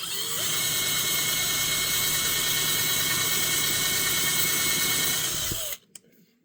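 A small power drill boring a pilot hole for tapping into a Hot Wheels die-cast toy car, a steady high whine held for several seconds, then stopping abruptly with a brief click.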